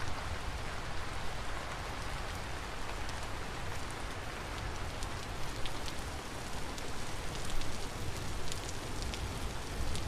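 Rain falls steadily in Vintage Story, a full, close hiss of drops with crisp scattered taps on surfaces, unbroken throughout and with no one speaking.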